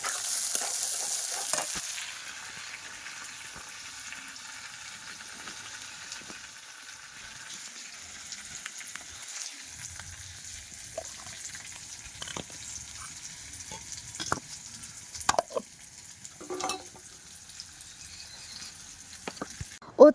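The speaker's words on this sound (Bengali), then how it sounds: "আর এবারে দেখুন ডালটাও ভেজে নিচ্ছি, যেহেতু মুগ ডাল।" Moong dal dry-frying in a pan, a faint, low sizzle with sporadic spoon scrapes and clinks growing more frequent toward the end; no speech.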